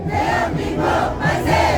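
Crowd of young rally-goers at a Korean patriotic rally cheering and shouting together, a loud, close massed roar with swelling pulses of voices throughout.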